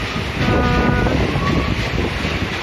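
Wind blows steadily outdoors in an area of small sari-making cottage factories, a continuous loud rush buffeting the microphone throughout.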